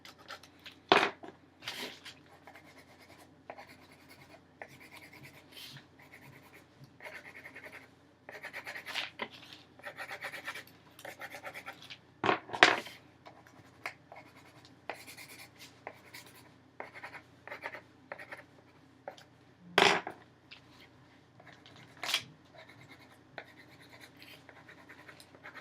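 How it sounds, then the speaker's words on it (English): A marker drawing a sunset on paper: quiet, irregular scratchy strokes and rubs, with short pauses between them and no talking. "I'm going to draw pretty much the worst sunset ever here."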